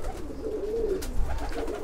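Pigeons cooing inside a loft housing roughly 150 to 200 birds, a low, throaty burbling coo rising and falling continuously, close and clear over soft background rustle.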